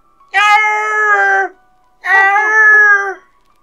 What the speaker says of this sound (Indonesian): Si kuning terus mengeong, meminta makan.